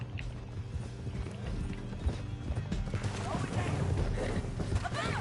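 Horse hooves clip-clopping at a gallop in the Red Dead Redemption 2 video game, a steady rhythmic patter under game ambience and voices, with a whinny mixed in.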